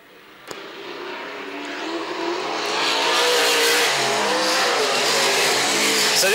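Limited sprint cars circle a dirt track at Collie, engines building from a moderate drone to a loud, sustained roar as the pack draws closer, with tyre noise mixed in and no talk.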